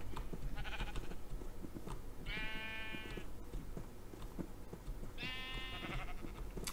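Sheep in the Minecraft video game bleat twice, each a short harmonic call standing out clearly over a busy, steady background of game ambience, with a fainter bleat near the start.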